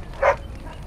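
A single short bark from a dog in the fantasy role-playing video game Dragon Age: Origins, one quick mid-pitched yelp standing alone over quiet background ambience.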